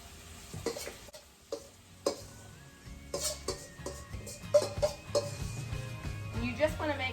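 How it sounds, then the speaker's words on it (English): A spoon scoops a potato mixture of cream of celery soup, sour cream, milk, cheese and diced onion into a baking dish, with repeated metallic clinks and soft wet scrapes under occasional talk. "we're going to spoon in our potato mixture"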